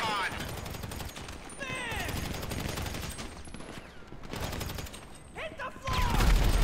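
Gunfire rattles in sustained bursts during a shootout in the video game GTA, with a grenade thrown and a heavier blast near the end, while players talk over the noise throughout.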